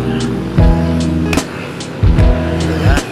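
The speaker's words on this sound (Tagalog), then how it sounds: "Medyo maingay, nakikita naman ninyo, madami ang dumadaan na sasakyan," Cars and motorbikes stream past outside an SM mall in Taytay, engines humming close and loud with repeated whooshes of passing vehicles and a steady traffic drone.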